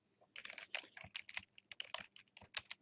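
Fingers tap out text on a computer keyboard, a quick irregular run of crisp clicking keystrokes, close and fairly quiet, with no voices.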